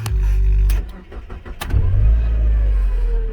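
A 1999 Mazda Miata convertible engine cranks over and fires up, settling into a loud, steady idle close by, with a brief pause in the cranking before it catches.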